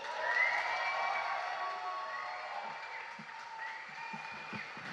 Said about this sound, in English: Let's give a big round of applause for Damien Rucci